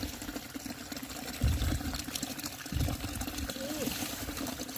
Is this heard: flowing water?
yes